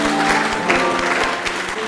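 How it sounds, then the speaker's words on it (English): Clapping for community service volunteers, a short steady round of applause mixed with a droning musical tone and low rhythmic thumps. "So let's give everyone a big round of applause for that."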